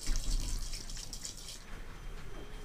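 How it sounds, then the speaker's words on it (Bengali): Tap water runs into a bowl of rice being washed, a soft continuous splashing and gushing that eases after about a second and a half, with low rumbling underneath. "চালটাকে 3 থেকে 4 বার জল দিয়ে দিয়ে খুব ভালো করে ধুয়ে"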